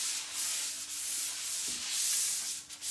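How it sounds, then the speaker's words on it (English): Painted wood furniture gets a light hand sanding, a continuous close scratchy rubbing that swells and eases in soft strokes, with no talking. "I don't really call this sanding. I'm just kind of knocking any roughness that's on it."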